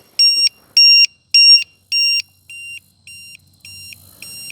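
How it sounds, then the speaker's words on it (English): A Pro Boat Sprintjet RC jet boat's faulty battery voltage alarm gives eight sharp high-pitched electronic beeps in a steady rhythm, loud and close, the last few shorter and quieter, with no talking. "I think this battery alarm is kind of goofed up"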